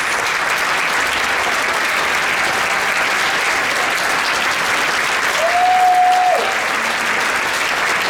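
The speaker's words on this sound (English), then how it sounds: "Will all of those nurses who were nominated please stand so that we can applaud your efforts" An awards-ceremony audience applauds nominated nurses, a steady, dense wash of clapping that holds evenly throughout, with a brief tonal sound near the end.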